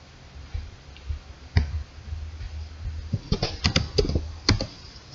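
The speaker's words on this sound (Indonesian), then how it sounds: "Lalu kita ketikkan skrip berikut." Computer keyboard keys clicking as a JavaScript script is typed for a Node.js file, a sparse stroke at first, then a quicker burst of close, crisp taps, alone over a low hum.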